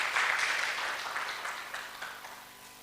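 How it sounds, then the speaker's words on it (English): Warm applause from an audience at a Kenyan research festival side event as the keynote speaker comes to the stage, a burst of clapping that starts strong and gradually fades over a few seconds. "Let us welcome her with warm claps as she comes"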